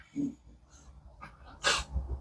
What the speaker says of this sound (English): That's my dog, if you can hear him.